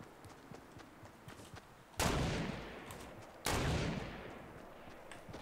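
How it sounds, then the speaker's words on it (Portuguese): Two loud gunshots in the video game Fortnite, about a second and a half apart, each a sharp close blast with a long ringing decay over a low background hum, no talk over them. "Tem esse bobão atirando, mas não é em mim não, é naquele outro lá no fundo."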